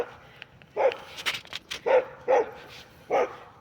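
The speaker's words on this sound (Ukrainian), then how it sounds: "десь стріли теж собаки гавкають спереді" Several dogs bark in short, uneven bursts at moderate distance in a forest at night near Kyiv, some yips and whimpering mixed in, with quiet background noise between barks.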